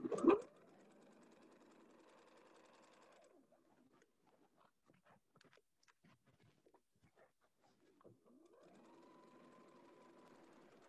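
A sewing machine stitches a side seam on a busy-patterned dress, a steady close whirring run for about three seconds, then a pause with small clicks and handling noises before the motor whirs up again.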